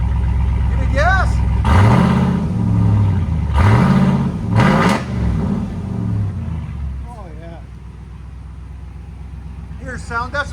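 A 2019-2026 RAM 2500 truck with a 6.4L V8 and loud aftermarket exhaust revs hard in repeated bursts, its deep rumble rising and falling near the listener before settling toward idle, with people talking over it.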